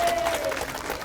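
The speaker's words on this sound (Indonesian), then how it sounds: "Kasih tepuk tangan dulu, sayang. Tepuk tangan dulu yuk." Studio audience applause on an Indonesian TV show, a short burst of clapping mixed with faint crowd noise and a steady tone, with talk over it.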